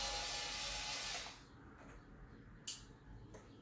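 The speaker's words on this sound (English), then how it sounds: "Okay, so here we go, removing the screws." A small power screwdriver whirs steadily while backing screws out of a radio-controlled crawler truck's cab, then stops, leaving a few faint clicks and light handling taps.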